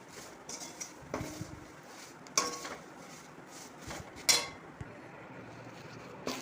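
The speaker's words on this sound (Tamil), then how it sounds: "இனி கருவேப்பிலை போட்டு வறுக்க. நல்லா ட்ரையாக வறுக்கணும்." Curry leaves dry-roasting in a pan, heard as intermittent scrapes and clinks of a metal spoon against the pan over a low, faint background hiss, close and irregular.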